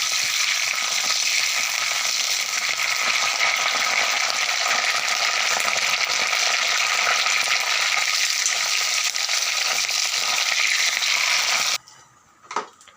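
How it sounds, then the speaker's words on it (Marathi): Curry leaves fry in hot oil until crisp for a chutney, a constant close crackling sizzle that cuts off abruptly near the end, followed by a brief clatter. "ही कढीपत्त्याची पानं आपण तेलामध्ये एकदम अशी खरपूस होईपर्यंत भाजून घेतली आहे"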